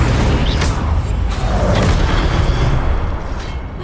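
An Incendio fire spell is cast in Hogwarts Legacy, a loud, continuous roaring burst of flame with rumbling booms throughout, dense and sustained with no pause.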